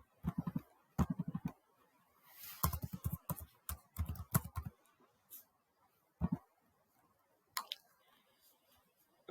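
Laptop keys are tapped in short, uneven bursts of crisp clicks, close by and fairly quiet, with pauses between the flurries and no one talking.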